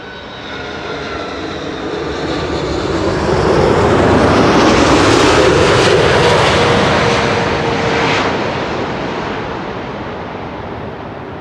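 An Atlas Air jet airliner landing at Amsterdam Schiphol on runway 06 roars in, its engine noise swelling to a loud peak overhead before fading away, with steady wind-like rushing throughout and no voices.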